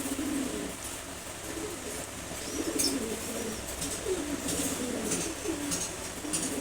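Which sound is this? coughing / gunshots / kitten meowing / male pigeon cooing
male pigeon cooing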